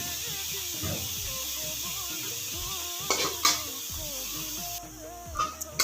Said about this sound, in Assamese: এতিয়া মই ভাজি আছোঁ